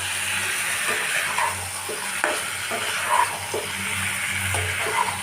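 Food being stirred in a cooking pan in a home kitchen, with soft scraping strokes and faint sizzling and hiss running steadily underneath, close and moderately quiet, no talk.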